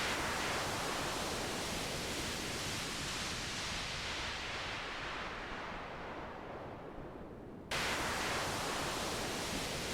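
Synthesized noise shaped by a slow attack envelope: a continuous broadband hiss like surf that stays loud and steady, cuts off briefly, then returns at full level, close and with no other sound.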